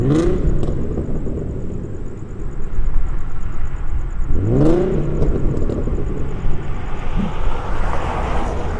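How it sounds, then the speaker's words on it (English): A loud car revs in a parking lot at the Southern and Stapley center, its engine whirring and surging with a rising sweep midway, caught fairly close in an outdoor binaural recording. "That guy's car sounds like it's stressing out when it's in the parking lot."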